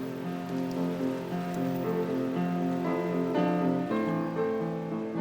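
Steady rain falling on a Paris street outside the Bataclan, a soft continuous patter spread across the whole stretch, mixed with gentle sustained melodic tones, moderately quiet and without voices.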